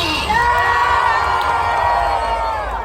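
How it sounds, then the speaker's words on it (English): A lively opening-night crowd at Queen Mary's Dark Harbor, a Halloween event in its 10th anniversary year, cheers, whoops and shouts together, loud and sustained throughout before easing off slightly at the end. "Yes, what a lively crowd you are."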